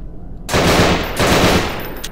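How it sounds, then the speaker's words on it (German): Two loud bursts of close automatic gunfire in the horror video game Hellsound, fired at objects in a basement, following a brief quiet start, with no talking. "deshalb versuche ich auf irgendwas zu schießen, was kaputt zu machen geht"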